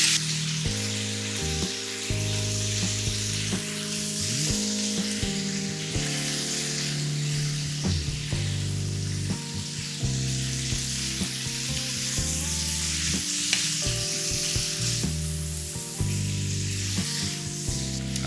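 Chicken and udon noodles stir-frying in a spicy sriracha hoisin sauce give a steady, close sizzle with scraping stirs, while music plays over it throughout.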